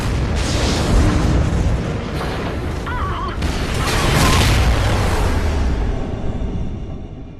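A loud, rumbling station explosion from the video game Call of Duty Ghosts, with booming blasts and debris whooshing that swell and sustain for several seconds, set in a space station scene with faint voices underneath.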